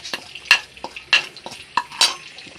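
Cumin seeds frying in a pan for matar paneer, a light sizzle broken by repeated spoon clinks and stirring scrapes against the metal, roughly every half second, close up and without voices.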